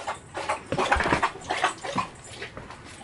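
Close, loud lapping and slurping of a dog drinking water, irregular wet splashy laps coming in quick clusters.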